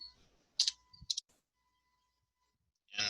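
A few quick key presses on a computer keyboard, close and crisp, in two short clusters followed by near silence and then a brief noisy burst at the end.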